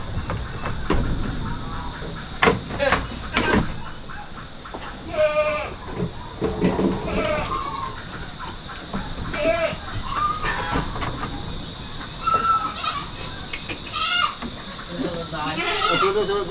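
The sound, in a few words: goat bleating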